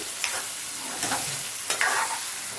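Steady sizzling of chicken frying in hot oil, with a few scraping stirs of a spoon in the pan.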